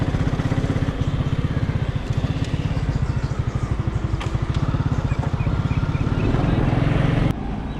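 A motorcycle engine idles with a steady close putter on a rainy street near the Mazar-e-Quaid gate in Karachi, then cuts off abruptly at the end.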